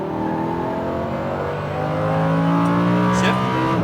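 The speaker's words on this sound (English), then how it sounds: "Give me some throttle. Full throttle." A Lamborghini Huracan accelerating at full throttle on a race track, its engine note climbing steadily and loud and close for a few seconds, with an instructor's voice talking over it.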